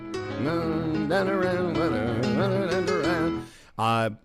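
A short piano melody with a bright, bouncy theme-tune feel, played alone and fairly loud, ending with a brief final chord after a pause.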